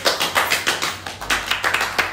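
Guests at a party clap together in a brisk, even rhythm, a small group's sharp, regular claps heard up close.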